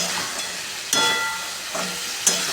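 Fried kalai bori, lentil dumplings, drop into a pot of cooking curry with potatoes, giving two sharp splashy bursts over a steady close sizzle and bubbling hiss.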